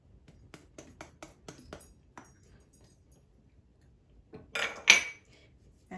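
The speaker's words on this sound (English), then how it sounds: "And I'm going to fold this in." A spoon clinks and taps lightly against a bowl in a quick series while baking powder is folded into black cake batter, then a louder scrape and clatter follows, close and quiet otherwise.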